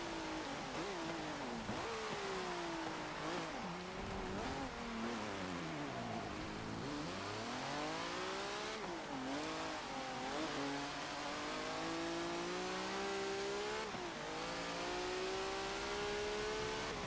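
Engine of a 1993 Toyota #1 T100 Baja Truck in Forza Motorsport 7, revving loudly and continuously with rising and falling pitch sweeps as it accelerates and shifts, with no talk.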